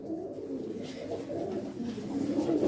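Pigeons kept on a rooftop coo in low, soft, continuous throaty murmurs, close by, with a faint background hush.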